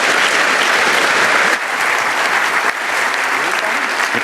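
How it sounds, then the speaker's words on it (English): Loud sustained audience applause at a young speaker physics contest final as a speaker emerges from behind a curtain, thick continuous clapping with brief dips. "Give him a big applause."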